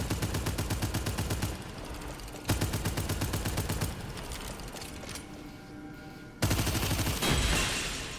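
Rapid automatic gunfire from a primary weapon in a VR co-op shooter game, dense rhythmic bursts of shots in several strings with brief pauses, loud and close with mechanical clatter.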